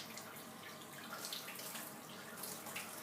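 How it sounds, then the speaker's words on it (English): Tap water runs over pork spare ribs held under a kitchen sink faucet to rinse them, a steady close hiss of running water with light splashing and no talking. "I'm just going to run it under the sink real quick to rinse off all the blood."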